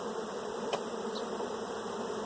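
A dense, steady drone of many honeybees buzzing together at close range around a large, busy hive, constant in loudness with no voices.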